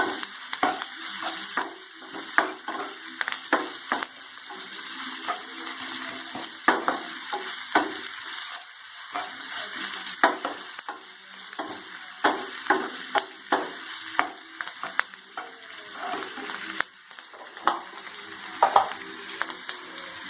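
A spoon stirs sizzling tempering (popu) in a pan while making mango chutney with coconut, with irregular scraping clicks over a steady frying hiss, close and moderately loud, no talking.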